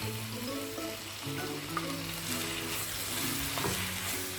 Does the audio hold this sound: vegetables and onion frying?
yes